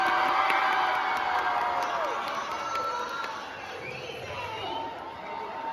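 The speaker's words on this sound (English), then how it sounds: "Cheer if you think David's Trump." An audience cheers and whoops continuously, a dense, steady roar of crowd voices that fades slightly toward the end.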